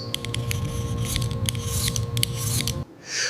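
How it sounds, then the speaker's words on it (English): A peeler scraping skin off a potato in quick, repeated rasping strokes, close and fairly loud, ending in a short pause. "Peel the potatoes."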